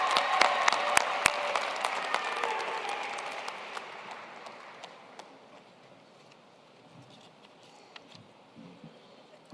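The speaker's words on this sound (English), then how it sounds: "Let's congratulate her with a round of applause" A round of applause for a graduating engineering student with a 4.0 GPA at a fall commencement ceremony, loud and dense at first with sharp individual claps, then thinning and fading to scattered claps.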